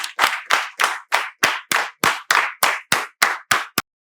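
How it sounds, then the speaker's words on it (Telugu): A single pair of hands claps about twelve times in an even, brisk rhythm, each clap crisp and close, then stops, leaving silence. "మీకు చప్పట్లతో స్వాగతం తెలియజేస్తూ సెలవు."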